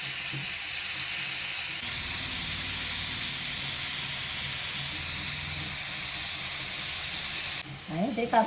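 Prawns fry in hot coconut oil, a continuous loud hiss that cuts off abruptly near the end, followed by a few handling knocks.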